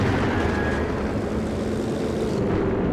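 A recon plane in the Company of Heroes 2 war game drones overhead, a loud, steady propeller-engine roar that holds throughout before thinning slightly at the end.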